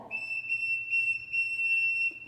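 A whistle is blown to summon people: a single shrill, sustained tone that briefly breaks and resumes, loud and close, with no voices.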